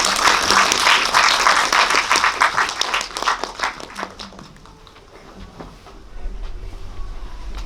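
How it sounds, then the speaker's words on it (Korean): Lively audience applause at a cinema talk, loud and close with distinct individual claps, tapering off around the midpoint into near quiet before a low hum rises at the end. "큰 박수 부탁드립니다."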